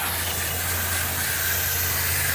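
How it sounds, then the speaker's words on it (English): Garden hose spraying water onto dirty central air conditioner condenser coils, a steady close hiss with an underlying low hum from the unit. "I'm spraying out all these coils"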